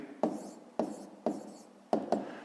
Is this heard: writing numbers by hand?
yes